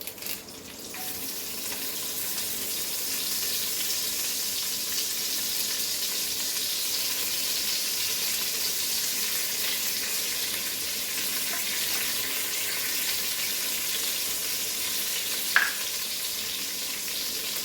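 Curry leaves and bay leaf (allspice leaf) crackle in hot tadka oil for Goan coconut rice, a steady, even hiss with a fine sizzle that holds throughout, moderately close, with one brief click near the end.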